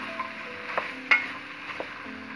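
Carrots and another vegetable cooking in a pan with a faint steady sizzle and a few soft spoon clinks and scrapes, quiet and close.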